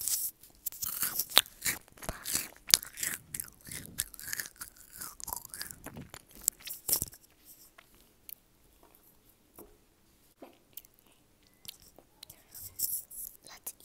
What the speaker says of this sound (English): So I'm gonna eat Kit Kat first